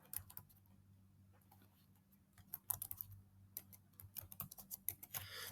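Fingers type references on a computer keyboard, with quiet, irregular key clicks in short bursts that grow busier and denser toward the end. No one speaks.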